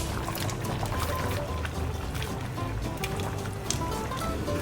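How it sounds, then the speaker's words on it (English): Water pours steadily into a pot of simmering lamb casserole for several seconds, a continuous splashing, bubbling flow close by with no talking. "Added extra water."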